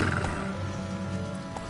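Roach, a video-game horse, gallops with steady clip-clop hooves and lets out a whinny, close and clear over continuous in-game ambience, with no talk.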